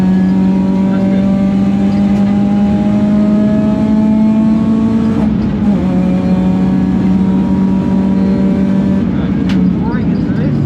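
A rented race car accelerates along a track, its engine droning loud and close with a steady, gradually rising pitch. A voice talks over the engine throughout.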